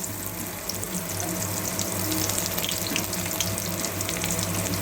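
Chopped onion hits hot oil and fries with a dense, steady hiss and crackle up close, alone and without talk, in a home kitchen.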